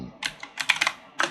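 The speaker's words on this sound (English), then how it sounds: "I'm gonna type in" Computer keyboard typed on in a brief, uneven burst of light clicking keystrokes, close and moderately quiet, with no talking.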